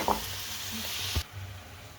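Soft, steady sizzling from a hot pan as water is added to cooking vegetables, with a faint clink and a brief rise in hiss before it settles down quieter.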